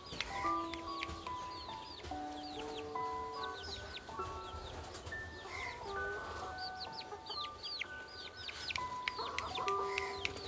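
Chickens cluck steadily close by, with overlapping calls and small chirps layered over a continuous farmyard background.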